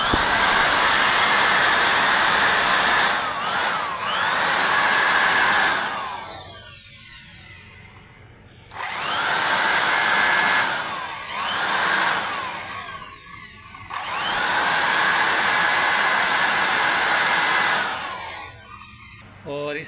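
A homemade blower-driven mosquito trap whirs with a loud, steady fan roar that runs in three long stretches, dropping away briefly between them amid some handling clatter, close by.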